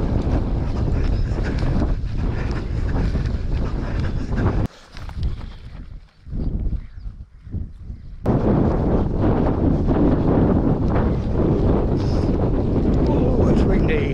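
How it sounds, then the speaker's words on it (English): Strong wind buffets across an open Essex saltmarsh, a loud, continuous roar with a brief lull in the middle before gusting back to full force. "Oh, it's windy."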